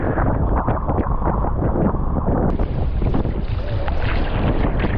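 Strong monsoon wind roars steadily into the microphone as a loud, constant buffeting rush with gusty texture, and water churns beneath it.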